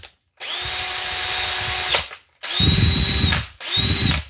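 Makita power drill that had been drowned in water, run in three trigger bursts: a long whine of about one and a half seconds, then two shorter ones, loud and close, with a rough rattling undertone.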